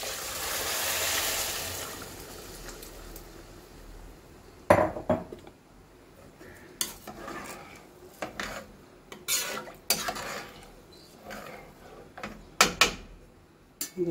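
Water is poured over fried rice in a cooking pot while making hamour fish biryani: a rushing pour for the first few seconds, then scattered clinks and knocks of utensils against the pot.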